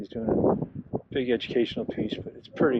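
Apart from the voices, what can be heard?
No distinct noise like a dog, phone or traffic.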